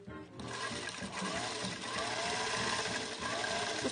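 A vintage Singer Featherweight sewing machine with an oscillating bobbin runs continuously at a steady pace, its busy mechanical whirring and clatter close and even throughout.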